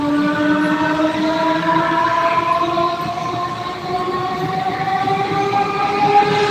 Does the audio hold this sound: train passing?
yes